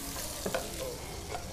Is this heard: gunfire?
no